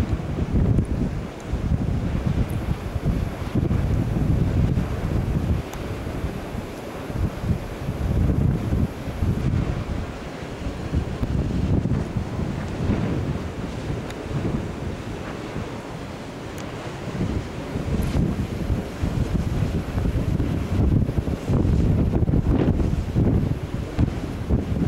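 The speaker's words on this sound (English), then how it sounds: "Wind's about 10 to 15 miles an hour." Wind at a wind farm, about 10 to 15 miles per hour, roars steadily and loudly against the microphone in gusty, buffeting rushes throughout, with no talking.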